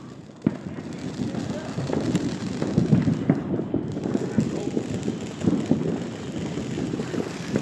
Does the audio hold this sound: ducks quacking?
no